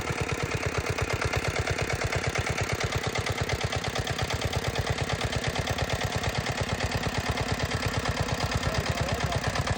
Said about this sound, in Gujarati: ભાઈએ 5 HP લોખંડ વ્હીલવાળું ટ્રેક્ટર લીધેલું છે, 5 હોર્સ પાવરનું